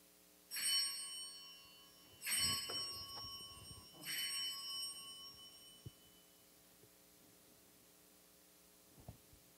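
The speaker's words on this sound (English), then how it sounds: "with the chiming of the sacred bells" Three church bell strikes ring out about two seconds apart during a worship service, each leaving a bright shimmering tone that fades slowly into a quiet room.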